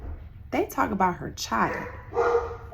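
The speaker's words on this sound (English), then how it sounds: "Sorry, that's my dog." A dog gives a few short barks in the background of a home while someone talks over them.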